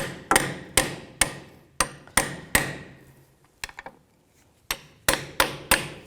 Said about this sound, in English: just use a pry bar and a hammer